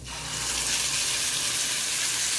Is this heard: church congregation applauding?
no